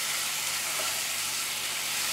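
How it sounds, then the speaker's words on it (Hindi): Mutton liver frying in a pan over high flame, a steady close sizzle filling the whole stretch with no talk over it. "अच्छे से पहले हमें इसे 3 से 4 मिनट फ्राई कर लेना है"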